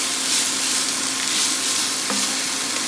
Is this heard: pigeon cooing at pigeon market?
no